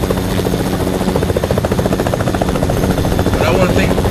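A Snoop Copter helicopter in Fortnite flies with a steady, loud rotor chop and engine buzz throughout, with a voice talking over it.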